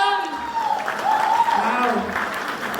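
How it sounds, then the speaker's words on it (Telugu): An audience claps for a mother on a stage show, a moderate patter of applause heard from a distance and partly mixed with a voice. "గట్టిగా చప్పట్లు మమ్మీ కోసం"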